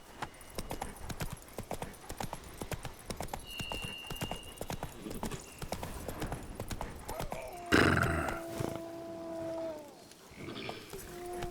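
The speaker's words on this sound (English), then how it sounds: "I'm actually gonna travel by horse here." A horse gallops in the Witcher 3 video game, its hooves clip-clopping in a fast, steady rhythm throughout; partway through a loud burst and a horse whinny cut in, followed by brief tonal game sounds.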